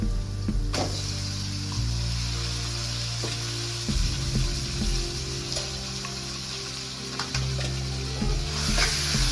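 Marinated chicken, coated with garlic paste, salt, lemon and kasuri methi, hits a hot pan and sizzles loudly and continuously, with stirring scrapes and clanks throughout.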